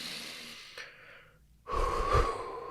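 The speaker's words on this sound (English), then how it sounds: "Nice deep breath." A slow, deep breath: a long soft inhale, a short pause, then a fuller, louder exhale close to the listener.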